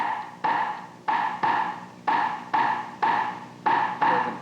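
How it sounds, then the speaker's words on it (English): Wooden claves click sharply in a 3-2 clave rhythm, a group of three strokes then two, crisp and close with short ringing tails. "There are two types of claves. The 3-2 that sounds like this."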